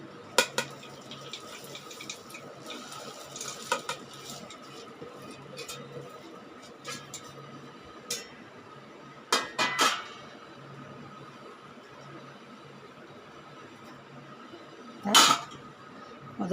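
Fried aval (flattened rice) mixture items being tossed together in a bowl, giving scattered dry clinks and rustles with a few louder scraping bursts over a quiet kitchen background.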